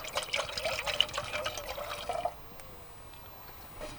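Water pours from a container into a camping pot for pasta outdoors, a close gurgling trickle for about two seconds, then stopping, leaving quiet ambient background.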